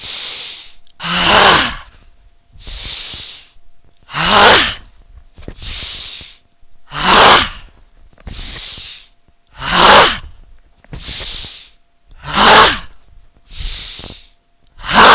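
Deep yoga breaths during a moderate yoga class, about ten long loud airy breath sounds repeating in a steady slow rhythm, close to the microphone with no talking.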